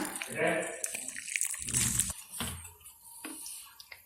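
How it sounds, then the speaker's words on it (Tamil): Dissolved palm jaggery water is poured into a hot pan holding ground ajwain, giving an uneven liquid splash and gurgle that rises and fades over about four seconds, with a muffled voice near the start. "நம்ம கரைச்சி வச்சுருந்த கருப்பட்டி தண்ணியை இதில் சேர்த்துடலாம்"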